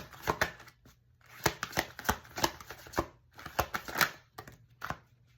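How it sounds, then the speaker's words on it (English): Tarot cards being shuffled by hand, a stiff deck giving repeated crisp riffling bursts and soft slaps in irregular clusters, close and fairly quiet with no talking. "These cards are so hard to shuffle."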